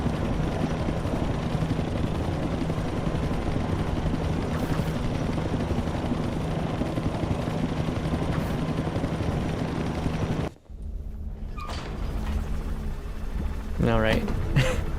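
A helicopter in the video game Peak roars as a loud, continuous broadband rotor-and-engine wash that drops away abruptly near the end, with a person talking over and after it.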